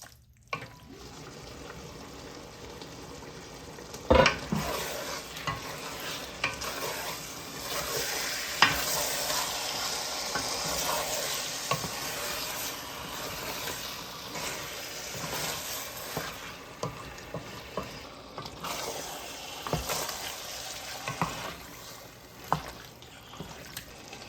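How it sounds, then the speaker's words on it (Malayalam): Chicken curry frying and being stirred over high heat, a steady close sizzle with scraping and stirring noises and occasional sharper clinks from the pan. "ഹീറ്റിലേക്ക് ഇട്ട് കഴിഞ്ഞാൽ ഇടയ്ക്കൊന്ന് ഇളക്കി കൊടുക്കണം. ഇതുപോലെ ഇളക്കി കൊടുത്തില്ലെങ്കിൽ ഇതിൻ്റെ മൂട്ടി പിടിക്കും"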